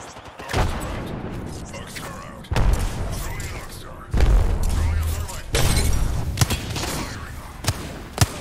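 A frag grenade explodes in Apex Legends among a firefight: sharp booming blasts and gunshot cracks hit at intervals, loud and close, with a voice speaking between them.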